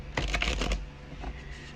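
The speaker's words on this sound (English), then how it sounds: "Now we're shuffling the Sacred Forest Oracle" Sacred Forest Oracle cards being shuffled by hand, a quick burst of riffling clicks near and close, then a softer second pass, with no talking.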